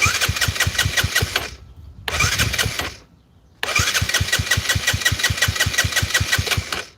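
A Benelli 135 motorcycle engine cranking over in rapid rhythmic pulses, loud and close, pausing twice briefly before the chugging starter resumes.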